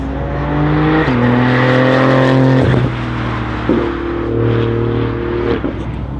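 A Porsche GT2 RS engine revs hard on a race track, pitch climbing through gears with sharp upshift drops, loud and close with no talk over it.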